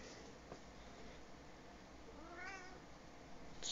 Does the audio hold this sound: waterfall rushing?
no